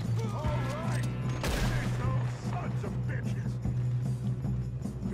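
Bursts of gunfire during a train robbery in the video game Red Dead Redemption 2, with rapid shots over a droning game background and voices shouting between them.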